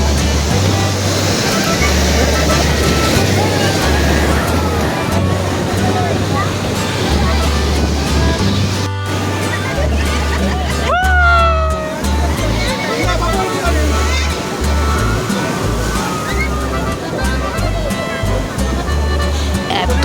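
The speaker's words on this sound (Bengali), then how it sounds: "এত সুন্দর ঢেউ আসছিল" Ocean waves break and surge continuously on Digha sea beach, loud and close with wind buffeting the microphone and a brief gap midway, crowd babble faintly underneath.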